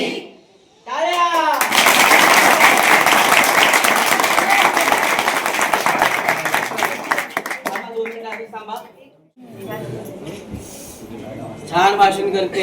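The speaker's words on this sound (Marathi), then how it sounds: "टाळ्या." Schoolchildren and a crowd applaud at a birthday celebration on a television set, a dense burst of clapping lasting several seconds, framed by children's voices and talk before and after.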